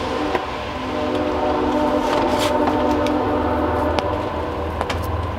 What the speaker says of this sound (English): A lot of you have commented that you enjoy hearing the train sound, so I leave it in.